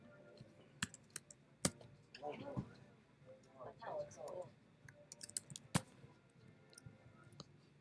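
Bursts of soft clicking keystrokes on a computer keyboard, faint and uneven, broken by a few sharper taps, with a person talking quietly in between.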